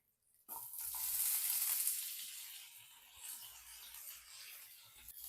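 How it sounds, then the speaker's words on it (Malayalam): Cauliflower fries in a pan of hot oil, giving a bright, hissing sizzle that starts suddenly, swells loudly, then settles into a steady crackle with faint scraping stirs, close up and without talk. "ഇനി നമുക്ക് കോളിഫ്ലവർ ഫ്രൈ ചെയ്തെടുക്കാം."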